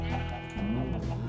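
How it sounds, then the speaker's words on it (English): Sheep in Minecraft bleat loudly and close by, one drawn-out wavering call running straight into another with no break across the whole moment. "These sheep are in the way."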